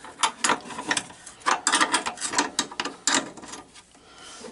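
A ratchet wrench loosens a nut in quick, irregular bursts of close, sharp metallic clicking, pausing briefly between strokes and then trailing off near the end.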